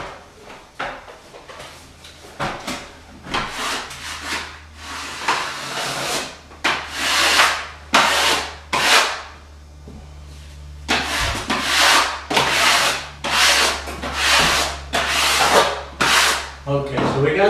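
Wallpaper is smoothed onto a wall in a series of loud, close sweeping swishes, irregular strokes with short pauses between bursts.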